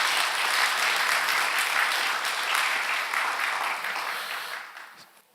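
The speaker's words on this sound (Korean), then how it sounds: "로메로 대주교님 위해서 한번 박수 한번 쳐주시면 어떨까?" Sustained applause from an audience at a peace forum honoring Archbishop Romero, dense and steady clapping that fades out near the end.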